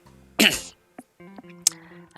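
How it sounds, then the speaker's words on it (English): A single harsh throat clear bursts out, followed by a short pause and soft voiced sounds, then another brief sharp throat noise. "Clearing my throat so much"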